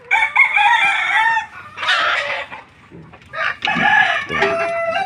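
A pet rooster crows loudly and close, giving two long drawn-out cock-a-doodle-doo calls separated by a pause, with some softer clucking and a scratchy burst in between.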